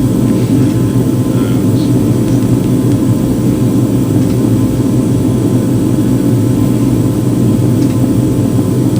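A jet airliner landing at Seattle-Tacoma airport (KSEA), a steady, loud engine roar and rumble held evenly throughout with no break.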